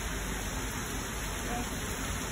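Rain falls steadily in a broad, even hiss, continuous and fairly close, with no voices over it.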